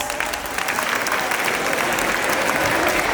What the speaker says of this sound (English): Please clap for us.